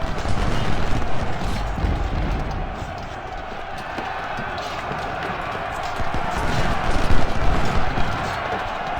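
Musket volleys crackle through a Civil War strategy game battle, a dense continuous rattle of gunfire with crowd-like din, heard under a man giving commands and talking throughout.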